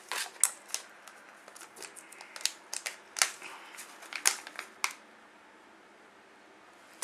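A resealable zip tea pouch is pulled open with a quick run of crisp, close ticking and crackling as the zip teeth separate, then quiet.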